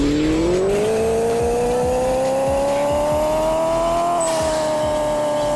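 A K-swapped Prius in Pixel Car Racer accelerating on nitrous, its engine note climbing steadily in a continuous loud whine, shifting up once and pushing higher with no talk over it.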